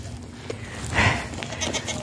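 Goats, a male and two females tethered on a dry grassy field in steady rain, give a single nearby bleat about midway through, over a soft constant wash of rain.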